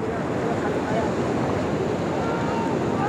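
Surf rolls onto the sand at Puri beach on a cloudy morning, a continuous broad wash of waves mixed with wind buffeting the microphone, steady and fairly loud.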